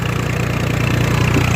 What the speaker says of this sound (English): you can hear in the revs of the tractor that it's starting to fall down a small bit